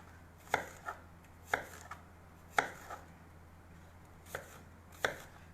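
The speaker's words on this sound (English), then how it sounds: "So average sized cubes I'm going to cut." A knife chops ingredients into medium cubes on a cutting board, with six or seven crisp, separate strikes at an uneven rhythm. Each hit is clear and close, with a lighter tap after some of them, against a quiet kitchen background.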